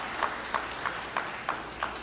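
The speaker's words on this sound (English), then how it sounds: "That deserves a round of applause." Clapping at a high school alumni hall of fame induction, a steady dense wash of applause with a few louder claps recurring at a regular pace.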